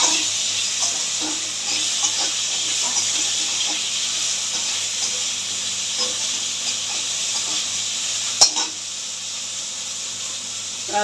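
Pointed gourd (potol) goes into hot oil with bay leaf, dried red chilli and whole spices, giving a steady bright sizzle with soft stirring scrapes. A sharp clatter lands near the end.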